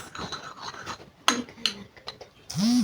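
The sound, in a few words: stirring homemade cream mixture in a bowl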